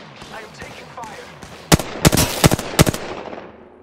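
Gunfire in the battle-royale game Apex Legends: a burst of several sharp, loud shots in quick irregular succession, following quieter game ambience and faint voices.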